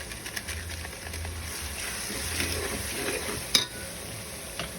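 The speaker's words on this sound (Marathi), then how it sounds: "आपला मसाला छान परतून घेतलाय आणि त्याला तेल सुटलेलं आहे" Green masala sautés in oil in a pan for vatana pea pulao, giving a soft, steady sizzle with light stirring scrapes and one sharp metallic clink, no voices.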